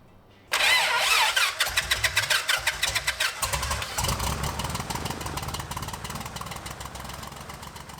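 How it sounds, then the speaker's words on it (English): A starter cranks an aircraft piston engine with rapid rhythmic chugs, then the engine catches and settles into a steady loud idle running close by. "The engine started up and everything was looking good"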